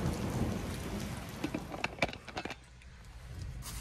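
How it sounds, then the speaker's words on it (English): A fast-moving thunderstorm: steady rain patters on surfaces while thunder rumbles, with a cluster of sharp cracks and drops near the middle before the downpour settles back to a continuous hiss. "Fast moving storm, I guess."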